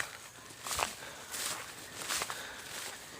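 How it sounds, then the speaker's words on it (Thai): Footsteps crunch and rustle on a forested mountain trail by a palm grove, a few soft irregular steps, fairly faint and close, with no talk. "เดี๋ยวผมให้ดูกำลังเดินขึ้นไปในภูเขานะครับ"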